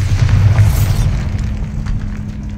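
A Bombarda spell explosion from the Hogwarts Legacy video game: a heavy, loud boom with a deep rumbling low end that swells early, then lingers as a sustained roar through the rest of the moment.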